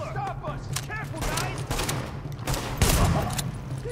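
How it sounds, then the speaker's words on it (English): Gunfire from The Division video game, with a rapid fusillade of shots and thuds under talking voices, plus a louder burst toward the end. "The escort party's taking heavy fire from the roof."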